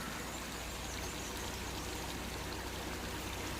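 Creek water runs steadily through a summer hollow, a constant broadband rush that holds an even level from start to finish, close by, with no voices.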